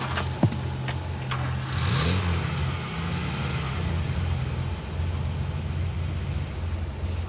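A car engine runs steadily and pulls away, a low rumbling drone that rises slightly as the vehicle moves off, heard fairly close with no talk.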